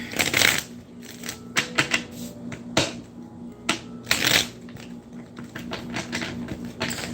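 Tarot cards are shuffled by hand in several quick riffling bursts with pauses between, close and crisp, joined by light taps and snaps of the deck, with no voices.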